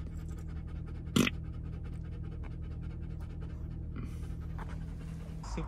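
Dogs panting steadily aboard a fishing boat on the Sacramento River, quick rhythmic breaths close by over a constant low engine or water hum, with one sharp knock partway through.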